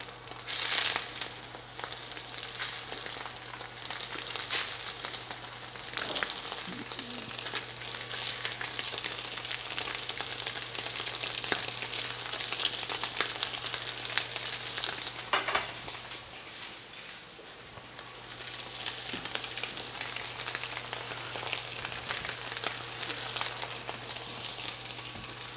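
Scallops sear in a smoking hot pan, giving a steady, close sizzle and crackle that holds for the whole stretch with no talking over it.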